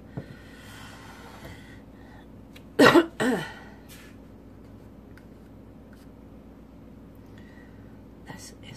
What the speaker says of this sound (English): He's coughing up a storm.